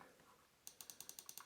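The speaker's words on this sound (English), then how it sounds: "mouse click" A run of about nine sharp, evenly spaced clicks from a Logitech G305 wireless gaming mouse, close and crisp, following a moment of quiet room tone.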